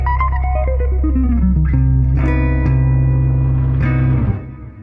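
A Diminished Major 7 arpeggio rings out as a clear sequence of rising and falling sustained notes, loud and close, with the final notes held and then cut off.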